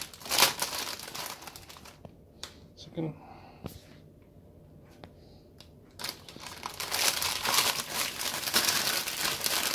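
Plastic wrapper around a Ford Falcon MK2 part crinkles while being cut with scissors, close and moderately loud, with speech before and after a brief quieter stretch.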